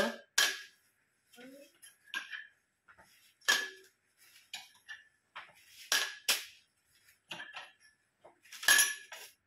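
Cups handled on a hard surface, scattered clinks and knocks spaced a second or so apart, close and fairly quiet, with a voice speaking between the sounds.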